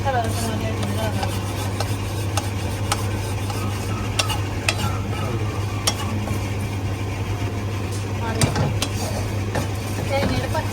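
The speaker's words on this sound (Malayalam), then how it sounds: "ഈ പൊടിയുടെ പച്ചമണം മാറുന്നവരെ ഇളക്കി കൊടുക്കണം." Roasted coconut and spices being stirred in a pan for a traditional chicken varutharacha curry, repeated sharp scrapes and clinks of the spoon against the pan over a low sizzle and steady hum, with some talking.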